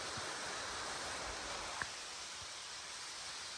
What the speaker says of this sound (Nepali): यो झरना